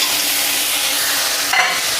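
Loud steady sizzling of food frying in a pan, with a brief scrape of stirring near the end, close up and without speech.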